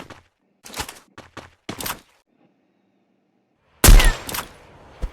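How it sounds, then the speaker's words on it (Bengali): Several short sharp bursts ring out in quick succession, then silence, followed by one louder, heavier blast up close: gunfire in the game Free Fire on the Bermuda map. "একটা গুলি মারো তো দেখি।"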